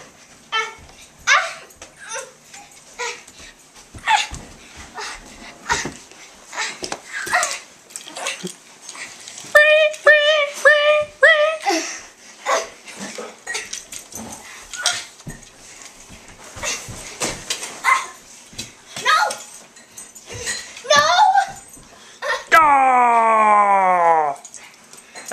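Dogs barking, yipping and whimpering in bursts, loud and close, ending in a long drawn-out howl, with scattered clatter between calls.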